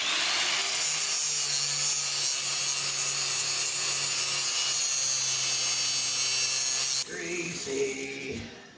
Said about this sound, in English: First step, grinding off all the old welds.